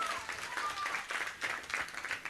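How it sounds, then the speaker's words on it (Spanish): A Quechua-speaking Nazarene church congregation claps loudly and steadily in a strong, continuous round of applause for a couple of seconds. "Dale un fuerte aplauso a nuestro Dios poderoso."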